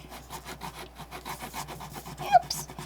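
A crayon colors in a drawn bulldog's ears on paper, making quick, rhythmic scratchy strokes that are soft and close, with no talking.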